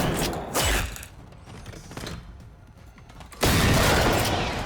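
Shotgun blasts in a first-person shooter game, one booming shot near the start and another near the end, with metallic crunching and clattering from robotic enemies in between, loud and close with no talk.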